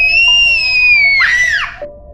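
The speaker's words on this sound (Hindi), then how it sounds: "और तभी मुझे किसी के चीखने की आवाज सुनाई दी।" A person's scream in an animated 3D hospital horror story: a loud, sustained high-pitched shriek that rises into a harsh cry near the end, with no talk over it.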